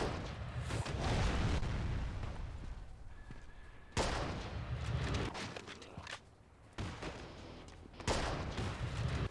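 Gunfire in the zombie shooter game Unkilled, with bursts of shots and sharp blasts that cut in and out across several segments, loud and close, with no one talking.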